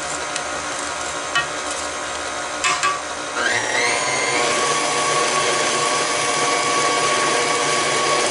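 An electric mixer whirs steadily through banana cake batter of eggs, butter, sugar and vanilla, a loud, constant motor drone that rises in pitch as it speeds up partway through, after a few short bumps.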